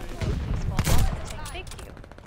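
Kar98k bolt-action rifle shots in a first-person shooter video game, several sharp loud reports in a quick cluster with echoing tails, alone without talk.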